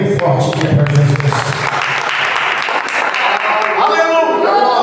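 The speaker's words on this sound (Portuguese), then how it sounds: "Vamos receber com as palmas bem fortes aqui para Jesus." A church congregation applauds during a worship service, with sustained clapping mixed with voices and musical tones throughout.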